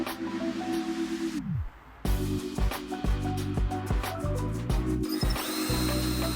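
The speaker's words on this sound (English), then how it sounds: "Start drilling again in 3-second intervals to avoid that tile cracking." A power drill fitted with a diamond bit grinds into ceramic tile in short bursts, its motor whining steadily, winding down briefly, then spinning back up with rattling, grinding contact against the tile.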